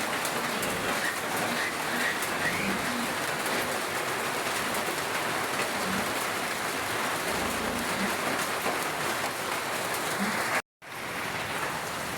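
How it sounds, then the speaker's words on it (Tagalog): Heavy rain pours down steadily near a pig pen beside a rice field, a dense, even roar of drops on surfaces that goes on unbroken, with faint bird calls and a brief cutout near the end. "Iba pong lakas ng ulan."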